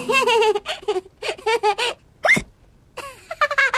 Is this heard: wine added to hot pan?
no